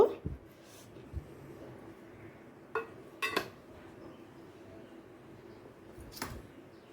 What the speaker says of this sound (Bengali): এবার ঢাকাটা খুলে দেখে নেব